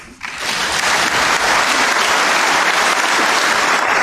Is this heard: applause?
yes